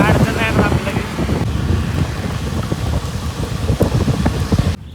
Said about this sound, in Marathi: आला आता मजबूत पाऊस आला.